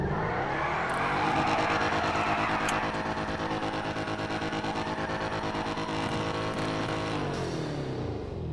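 A car engine in the GTA 5 video game revs and drones steadily at high pitch, a continuous loud mechanical whine with shifting tone and no voices.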